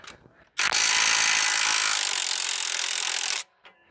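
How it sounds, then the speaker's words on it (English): Impact wrench hammering loose a stabilizer link nut on a Ford Flex with a 21 mm socket: one loud, continuous buzzing rattle of about three seconds, up close, with brief quieter tool noise before and after. "We can use the impact to break the nut loose."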